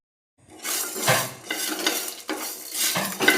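Coriander seeds, cashews, coconut pieces, dried red chillies, cloves, cinnamon, cardamom and peppercorns fry together in a pan for a chicken masala. Stirring scrapes and clatter ride over a soft sizzle, with no talking.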